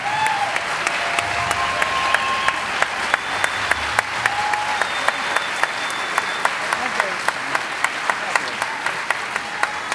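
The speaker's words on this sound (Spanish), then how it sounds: "Un aplauso para la OSLA, por favor." Audience applause for an orchestra at a cultural festival in Sinaloa, a steady broadband wash of many hands clapping with sharp individual claps cutting through, sustained evenly for the whole stretch with a faint voice underneath.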